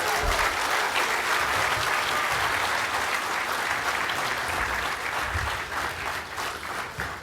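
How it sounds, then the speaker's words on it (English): An audience at a business excellence awards night breaks into steady, full applause with some cheering, a dense wash of clapping that holds for several seconds and eases slightly toward the end. "I wish you all to cheer for the Vodafone Bhati team tonight"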